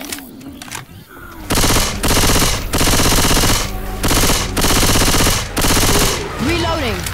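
Railgun fire in Left 4 Dead 2's Hard Rain campaign: loud, dense bursts of sustained rapid shots in several long blocks, separated by short gaps, with ringing tails at the end.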